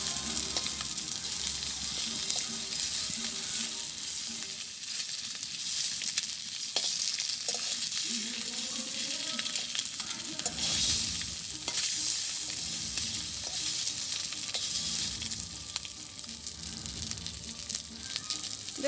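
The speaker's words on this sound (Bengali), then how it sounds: "তো ডিম ভাজি হয়ে গেছে" An egg fries in a small amount of oil in a village kitchen, giving a steady, close, even sizzle and hiss. There are a few faint scrapes and knocks, and no one speaks.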